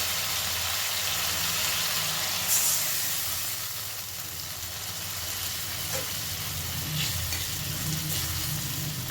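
Marinated hilsa fish sizzling in hot oil in a pan with a splash of water added, a loud, continuous hissing fry that holds steady with small crackles and spits throughout, no voices.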